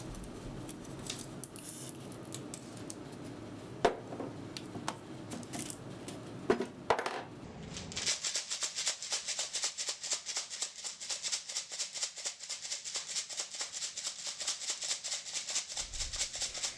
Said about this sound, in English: then I will stone wash the knife